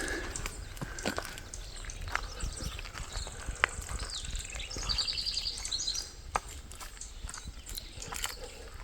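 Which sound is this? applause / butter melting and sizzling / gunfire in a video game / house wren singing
house wren singing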